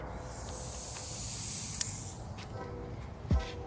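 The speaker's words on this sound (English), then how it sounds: "the best thing to do before you wipe anything is to blow off the big stuff. Use compressed air" Compressed air blasting debris off a surface before wiping, during installation of a washer and dryer with a through-wall vent in an RV; a steady, close, loud hiss holds through, with a brief stronger burst near the end.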